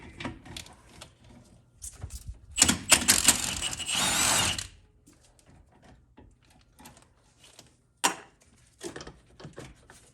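A ratchet turns a 13mm bolt on the ABS unit of a fourth-generation Pontiac Trans Am with an LT1 engine: scattered clicks, then about two seconds of dense, loud ratcheting, then sparse clicks and a single sharp knock.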